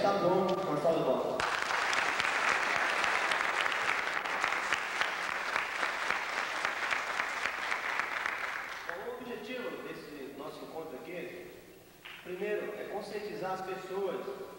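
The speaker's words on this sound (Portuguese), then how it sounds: "O Mestre tá bom, uma salva de palmas." Applause from an audience at a 1988 capoeira regional cultural event in Curitiba, a loud sustained burst of many hands clapping for several seconds that then fades as voices and talk take over.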